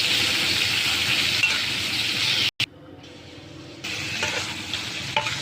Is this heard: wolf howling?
no